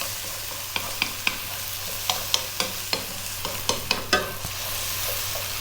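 Celery stir-fries over maximum heat under a constant sizzle, with a dozen sharp utensil clacks against the pan at an irregular pace, close and clear, no voices.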